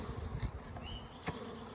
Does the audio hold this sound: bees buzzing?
yes